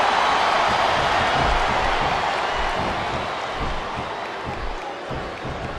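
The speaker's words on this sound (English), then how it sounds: "I love hearing the crowd come alive" Arena crowd noise from a Smackdown vs RAW 2007 wrestling video game, a broad, sustained roar of cheering that holds steady and eases slightly toward the end, with no speech over it.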